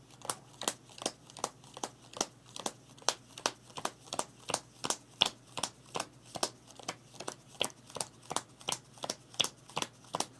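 Playing cards from the board game Pax Transhumanity dealt one at a time onto a table to count out a draw deck, giving crisp, evenly spaced snaps close up, about three per second, in a quiet room.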